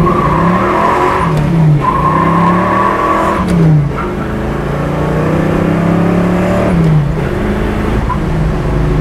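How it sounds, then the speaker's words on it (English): A 1968 Chevrolet Chevelle muscle car accelerates hard, its loud engine climbing in pitch through several gears with brief drops at each shift, heard up close and without talk. "That's a muscle car."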